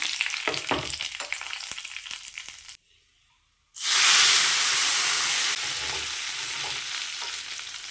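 Curry leaves sizzle in hot oil on a low flame while tempering kollu (horse gram) chutney with urad dal, a loud bright frying hiss after a brief quiet gap, crackling steadily and then easing slightly.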